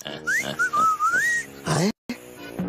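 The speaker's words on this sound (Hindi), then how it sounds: "देखिए ससरा सीटी बजा रहा है" A person whistles a bright wavering melody, loud and close, with a rising-falling tune, followed by a brief gap and some voice-like sounds.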